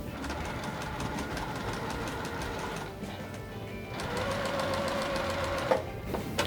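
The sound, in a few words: sewing machine stitching a puff quilt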